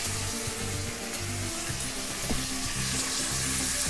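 Homemade ground spice masala with black pepper, chili, garlic and coriander hitting hot oil for a dhaba-style dal tadka, a loud dense continuous sizzle and crackle with faint stirring, no talk.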